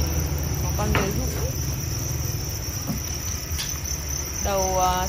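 Thai crickets on a cricket farm chirp steadily in a dense, continuous trill, with a few brief faint voices and background noises underneath.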